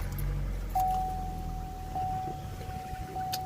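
A 2015 Chevy Cruze Eco LT with a 1.4 turbo engine idles outdoors after light rain, a steady faint high-pitched chirp or squeal running continuously above the low engine rumble.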